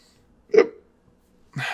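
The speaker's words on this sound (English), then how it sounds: "Hiccup. Sorry, y'all." A single short hiccup bursts out at close range, followed after a pause by the start of a voice.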